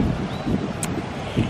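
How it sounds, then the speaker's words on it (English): Wind blowing steadily across a beach at Imbassai in northern Bahia, Brazil, a continuous broadband rush with low gusty rumble against the microphone, fairly loud and without talk. "It is windy"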